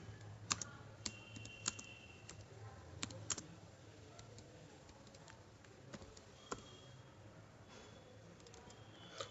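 Keys clacking on a computer keyboard while someone types Java code, a quiet, irregular run of light clicks with occasional louder strokes over a low room hum.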